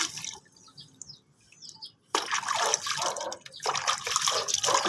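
Water poured over a rooster during a bath, splashing and trickling in bursts, quieter at first and then a louder, continuous pour after a brief pause.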